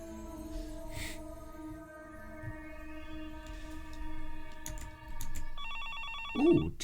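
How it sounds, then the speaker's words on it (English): Telephone ringing in the Higurashi video game, a repeated electronic ring over quiet background music, with a soft clicking sound near the end. "just then the phone directly in front of her began to ring"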